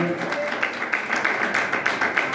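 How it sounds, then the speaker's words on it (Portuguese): Church congregation clapping for God during a worship service, a steady dense patter of many hands filling the hall with a murmur of voices and music underneath. "quem pode bater as palmas para Deus, igreja?"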